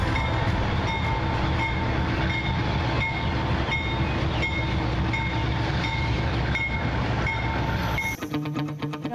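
Train on the Central Andean Railway near San Bartolomé station rumbling steadily with rail clatter and tonal horn-like lines throughout, loud and continuous, ending in a brief abrupt change near the end.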